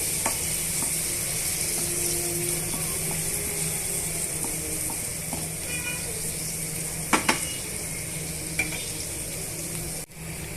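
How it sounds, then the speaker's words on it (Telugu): Vegetables with coriander and curry leaves are stirred in a hot pan, a steady sizzle under scraping spoon strokes, with a few sharp clinks against the pan near the end. "కొత్తిమీరని కరివేపాకుని యాడ్ చేసుకున్న తర్వాత ఇవన్నీ బాగా మిక్స్ చేసుకుందామండి"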